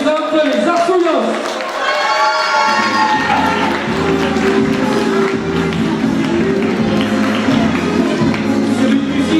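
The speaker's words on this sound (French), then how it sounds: "je vais vous demander un tonnerre d'applaudissements pour toutes les candidates" An audience at a village festival queen election applauds the pageant candidates, loud steady clapping and crowd noise with an announcer's amplified voice over the top and music joining partway through.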